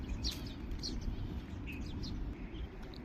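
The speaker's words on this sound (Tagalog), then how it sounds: "ang daming nagpapakain sa mga ibon" Small birds chirp in short, scattered high tweets over a low, steady outdoor rumble where people feed them, moderately distant and faint.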